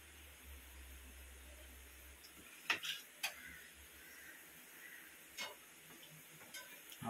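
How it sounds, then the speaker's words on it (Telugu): Bread gulab jamun balls frying in hot oil give a soft, steady sizzle with a few sharp pops and crackles scattered through it. No one speaks. "వీటిని వేడిగా ఉన్న ఆయిల్లో వేసి ఫ్రై చేసుకుందాము"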